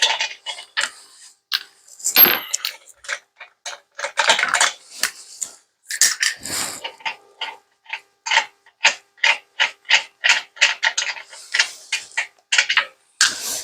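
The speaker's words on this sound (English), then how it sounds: "while I'm unscrewing these lug nuts" Lug nuts unscrewed from a car wheel while swapping tires, heard as a fast run of sharp ratcheting clicks from a hand wrench in short bursts, close and crisp, becoming a steady rhythmic clicking toward the end.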